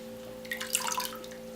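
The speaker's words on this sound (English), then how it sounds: "I'm just going to lightly rinse them off a little" Peppers are lightly rinsed under a kitchen tap, with brief faint splashing and trickling of water over a low steady hum.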